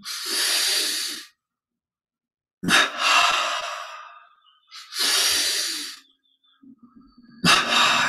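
Close, loud breathing during a Yogoda energization meditation: a double inhale through the nostrils and a double exhale through the mouth, as forceful airy bursts separated by silent pauses, some with a split two-part onset, and no talking.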